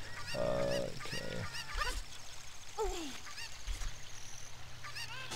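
A chicken squawks and clucks in the video game Zelda: Ocarina of Time, giving a few loud, harsh honking cries near the start and a shorter call midway, over a steady game background.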